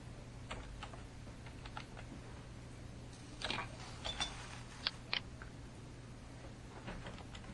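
Someone types a password on a computer keyboard in a sparse run of soft, close key clicks, with a few sharper taps near the end and no talking.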